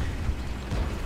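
A tank shell strikes from behind in World of Tanks, a dull low boom rumbling through the short stretch at steady loudness with no voices over it.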